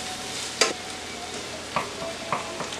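Garlic sizzles softly in a pan alongside sausage and peppers while a utensil stirs it, with a few distinct scraping clacks against the pan spaced over a steady low hiss and no voices.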